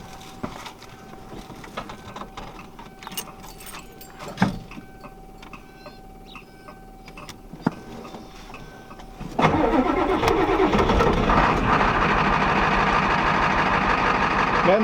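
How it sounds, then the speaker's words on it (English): 1989 Ford F-350 pickup with a 7.3L IDI diesel and aftermarket turbo starting cold: quiet ticking and clicks, then the starter cranks briefly and the engine catches into a loud, steady clattering diesel idle, close by. "We'll give it a little cold start here."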